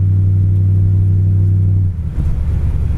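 A 1968 Ford Mustang with headers and dual exhaust idles with a deep, steady rumble, then blips its engine in a quick rev that dips and swells back into a loud, gruff, close idle.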